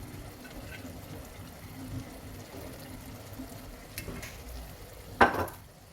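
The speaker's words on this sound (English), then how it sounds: "and stir properly and fry for another 2 minutes." Pepper stew with seasoning cube and crayfish frying in a pot, heard as a soft steady sizzle with a brief louder scrape of stirring near the end.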